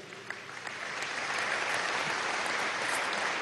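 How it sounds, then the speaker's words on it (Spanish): An audience applauds at a Kimberly Clark factory event in Aragua, the clapping swelling from scattered claps into a steady, moderately distant roar of many hands. "un aplauso al oriente del país"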